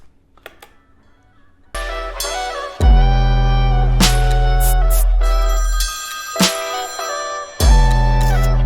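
A phone ringtone sampled into a rap track rings out in repeated bright electronic tones over heavy bass hits, loud and rhythmic within the music, with no talking.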